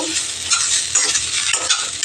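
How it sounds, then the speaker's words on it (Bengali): Dry stirring and scraping in a dry, oil-free wok, with a steady gritty rustle of a mashed bharta mixture being tossed, continuous and close, no talking. "তা এইটা আরেকটু ভেজে নেব, কড়াইতে, শুকনো কড়াইতে নেড়ে নেব"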